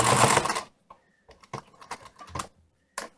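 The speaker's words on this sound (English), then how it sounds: "Careful not to sew over our threads." A sewing machine stitches close to the edge of a fabric wing piece, first in one loud, dense burst of whirring, then in short, halting stitch bursts separated by quiet pauses.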